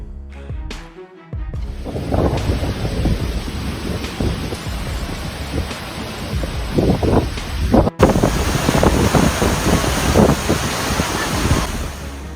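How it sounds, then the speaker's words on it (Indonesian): Typhoon Choi-wan strikes the Philippines with roaring wind buffeting the microphone and heavy surf crashing continuously. The loud turbulent noise has repeated gusty surges and a sharp break midway. "Topan Dante atau yang dikenal dengan nama Topan Choywan mendarat di Filipina"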